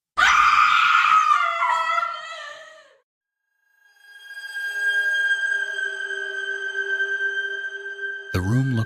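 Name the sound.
distant scream in abandoned hospital psychiatric wing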